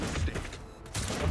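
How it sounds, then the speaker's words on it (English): Autocannon fire in the Warhammer 40K game Rogue Trader, heard as two dense bursts of heavy shots with a quieter gap between them, fairly loud and close. "He's got an autocannon"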